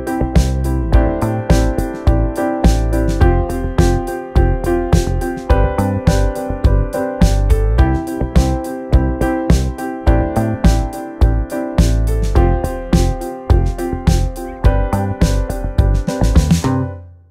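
Logic Pro AI keyboard session player performing a steady rhythmic keyboard part, repeated chord stabs with bass notes in a loud, even groove that plays alone before stopping at the end.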